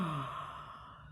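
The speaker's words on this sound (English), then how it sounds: "Can you yawn?" A single breathy yawn from a person at bedtime, opening with a brief voiced rise and trailing into a long, soft, fading exhale, heard close and alone.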